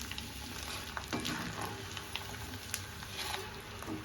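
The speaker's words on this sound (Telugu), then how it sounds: "అదిగోండి అట్లా రావాలండి తాలింపు చక్కగా కాలి." Curry leaves and garlic crackle and sizzle in hot oil in a pan for a tempering, a steady close frying hiss with scattered sharp pops and spits throughout.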